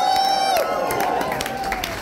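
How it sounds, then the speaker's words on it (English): Crowd cheering and clapping at a live rock concert at desTINAtion 2023, a sustained roar of many voices close by, with a fading tonal ring at the start. "so give them a massive cheer as well"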